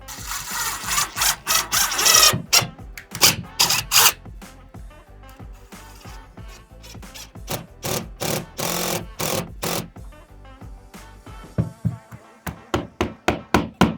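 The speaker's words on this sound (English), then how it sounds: "anytime I can go into wood, I'm gonna drill into wood" A power drill bores into wood to mount a speaker bracket during a home theater installation. It runs in a series of loud whirring bursts, with short pauses between them and a quick run of stuttering pulses near the end.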